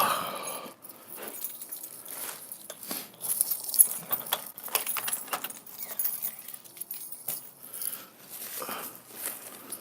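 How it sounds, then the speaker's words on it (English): Keys jangle and clink repeatedly in short metallic bursts, close by, as someone searches for them, with soft handling rustles between the jingles and no talking. "Let me find my keys first."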